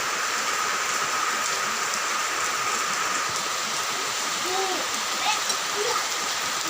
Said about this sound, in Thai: ฝนตกเล็กน้อย